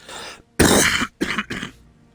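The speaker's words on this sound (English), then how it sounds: "this cough is killing me" A man coughs and clears his throat: one long harsh hack followed by two shorter rasping coughs, close and loud, with a faint room tone between bursts.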